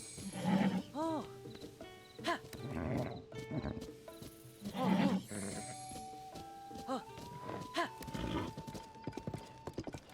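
Horse in Zelda Tears of the Kingdom, with rhythmic clip-clopping hooves and repeated whinnies and snorts over game music, while someone talks over it at times.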